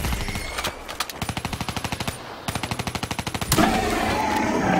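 Rapid automatic gunfire from a video game fires at insects in two sustained bursts of evenly spaced shots, followed by a louder, noisier blast-like wash of sound.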